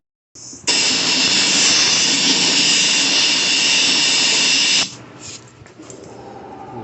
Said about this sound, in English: Me, I'm just going to use an air hose.